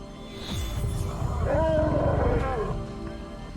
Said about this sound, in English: a lion's roar carries across the savanna, so deep the air seems to hold the last vibration